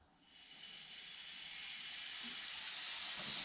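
Compressed air hisses through a cheap sand blaster cabinet, rising quickly from silence into a steady, bright, strengthening rush that continues to the end.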